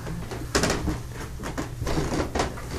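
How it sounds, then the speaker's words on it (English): Old wooden steps in a historic house creak and thump under footsteps, about four distinct creaks spaced unevenly, close and fairly loud, with no talking. "And at night, you can probably hear them creaking."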